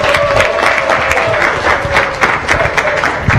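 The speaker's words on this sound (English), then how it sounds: "Ladies and gentlemen, I think we should give a huge round of applause." A large live-event audience bursts into a loud, sustained round of applause that holds steady throughout, with a faint crowd murmur and a steady tone running beneath the dense clapping.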